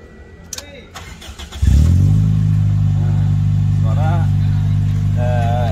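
Clicks and a starter crank lead into a former taxi's rebuilt car engine catching and settling into a steady, rumbling idle, with a person talking over it.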